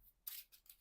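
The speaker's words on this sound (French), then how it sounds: "Donc je remélange." A quick, faint riffle of Marvel Champions playing cards being reshuffled into the deck. It is a single short papery burst, close and soft, with a small flick after it.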